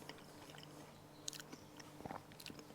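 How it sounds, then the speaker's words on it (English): A crunchy bite into a jalapeño cheese ball snack with a gooey cheese centre, giving a few sharp crisp crunches and chewing sounds close up, fairly quiet with no talking. "You can hear the crunch."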